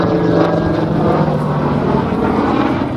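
A Hawker Sea Fury FB 10 piston-engined propeller aircraft flies at an air show, a loud, steady, droning engine roar that holds for the whole stretch with no talking.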